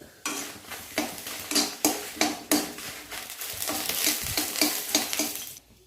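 Chillies fry in oil in a pan, a close, steady sizzle broken by scraping stirs and clinks of a utensil against the metal, with no talk, fading out at the end.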